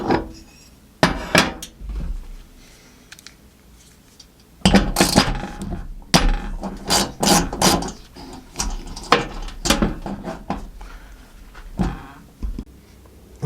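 Metal burner jets are swapped out on a gas range stovetop during a natural gas to propane conversion, heard as close, scattered metallic clicks, taps and ratcheting clatter in irregular bursts with quiet gaps between.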